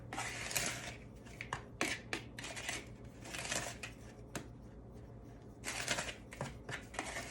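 Dry ingredients for a vegan gluten-free cornbread being mixed in a bowl, giving bursts of close scraping and rustling strokes with short pauses between them.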